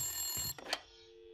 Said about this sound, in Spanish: Oh, está sonando el teléfono.